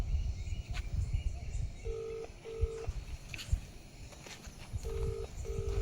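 Outgoing call to a rickshaw driver rings unanswered on a phone, repeated paired ringback tones in a steady rhythm over outdoor background noise, with faint clatter between them.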